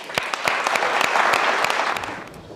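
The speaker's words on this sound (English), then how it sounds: "So how about a big round of applause?" Audience applause at a health innovation pitch event, a dense steady wash of many hands clapping close by, sustained evenly throughout with no talk.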